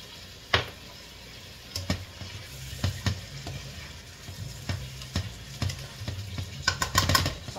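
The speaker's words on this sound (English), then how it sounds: "So I'm going to just saute it for about 2 minutes." Food seasoned with salt, black pepper and garlic powder sautés in a pan: a steady, close sizzle with a utensil stirring, clicking and scraping at irregular intervals.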